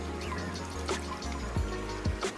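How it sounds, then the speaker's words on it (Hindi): Water splashes and trickles as a cartoon bird bathes in a small clay pool, with steady liquid sloshing and a few brief drips over a continuous background bed of music. "बेरिया देकर रानो पानी के अंदर जाकर नहाने लगती है।"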